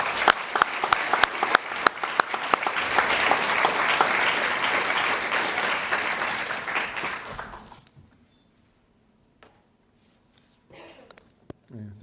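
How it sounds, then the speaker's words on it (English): An audience applauds to welcome Colombian director Ciro Guerra at a Q&A session, with sustained loud clapping from a crowd that swells and then fades out around eight seconds. Near-silence follows, with faint rustling. "please welcome him with a round of applause"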